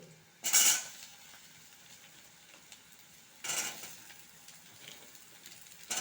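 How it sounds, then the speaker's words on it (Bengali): Potatoes and pumpkin are stirred into a pan of onion tempered with dried red chillies, giving a soft, faint sizzle broken by two or three louder scraping clatters of a spoon on the pan. "দিয়ে এটাকেও আমি একটু ভেজে নেব পেঁয়াজের সাথে"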